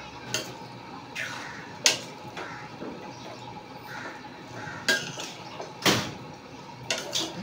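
Rice with coconut being stirred and sautéed in a pot, irregular scraping and clanking of a spoon against metal at close range, with soft rustling between the knocks.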